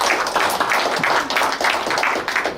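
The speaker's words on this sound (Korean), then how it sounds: "용기 내라고 박수 한번 주세요." An audience at a book launch celebration claps steadily, a dense, continuous patter of many hands that stays fairly loud and even over a couple of seconds, with no talk on top.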